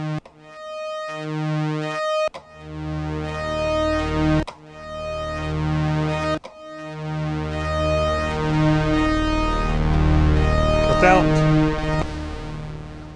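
A restored Memorymoog synthesizer plays a series of key presses, each note restarting its envelope from silence, with short gaps and clicks between rich, buzzing sustained tones, loud and close with no voices.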